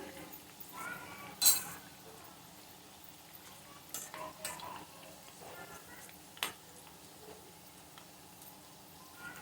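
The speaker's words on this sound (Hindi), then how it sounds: "अब हम इसे डिश आउट करते हैं।" Fried spinach and potato pakoras lifted out of a pan of oil, a low background sizzle with scattered clinks and scrapes of a utensil against the pan, a few sharper knocks standing out, fairly quiet and close.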